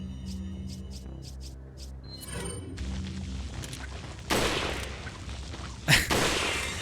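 Handgun fire in the survival horror game Resident Evil 4: two loud, sharp shots about a second and a half apart, after a stretch of rumbling game noise and scattered clicks.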